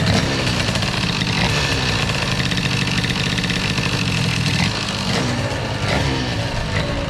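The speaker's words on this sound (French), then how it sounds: "Un hybride à air avec 200 degrés à l'échappement qui roule tranquille." A Stage6 MK2 air-cooled hybrid scooter engine runs steadily at an easy cruising pace, its droning exhaust and engine note staying loud and close without a break, with only a slight dip near the end.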